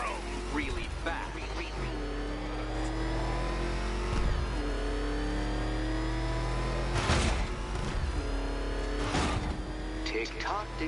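The Batmobile in Batman: Arkham Knight revs and accelerates, a loud sustained engine roar with rising and falling pitch and sharp bursts of impact or skid noise, with game voices talking over it.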